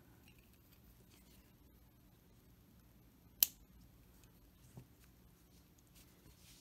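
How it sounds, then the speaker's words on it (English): Scissors snip through crochet yarn with one sharp, close click, then a second fainter snip a moment later, set against a quiet room. "Cut the yarn."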